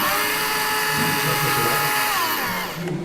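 A motor drives a large 1:32 gauge 1 model railway turntable with a 71 cm bridge at an exhibition, giving a steady high whine that runs for about three seconds and then tapers off near the end, with faint voices underneath.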